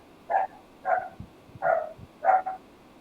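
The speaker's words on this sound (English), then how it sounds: "dog noises." A dog barking sound effect in a tabletop role-play session: four short, evenly spaced barks, clear and moderately close, with quiet background between them.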